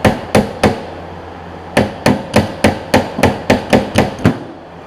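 Sharp metallic ball peen hammer strikes ring out close by during a 1998 Forester rear wiper motor replacement: three blows, a pause, then a steady run of about nine evenly spaced hits.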